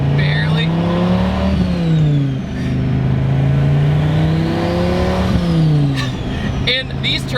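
A twin-turbo 2002 Dodge Viper V10 running about six pounds of boost revs steadily, its deep engine tone rising and falling across two swells, loud and close, with brief clicks and whooshes near the end.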